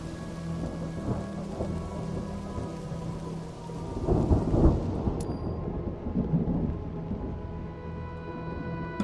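Steady rain from the video game Mind Over Magic, with a swell of rumbling thunder in the middle, continuous and fairly loud with no one talking.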